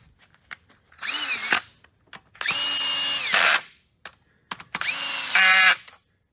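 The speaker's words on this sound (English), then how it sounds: "these DeWalt's, it's a low torque. Just set it to like 11, just enough to drive it in." DeWalt cordless driver set to low torque runs a bolt into a Chevrolet Malibu 2.4L engine head in three whining bursts, loud and close, separated by brief clicks and pauses.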